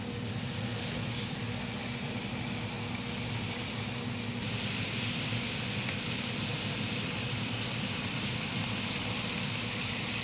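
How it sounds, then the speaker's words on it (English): Bacon strips sizzle steadily on a hot grill while double cheeseburgers are being prepared, a dense, even hiss and crackle lasting throughout at a constant level with no voices. "We're also gonna get our bacon going."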